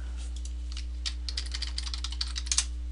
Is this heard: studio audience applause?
no